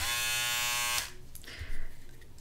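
An electric body shaver buzzes loudly and steadily for about a second, then cuts off, followed by softer clicks and handling sounds nearby.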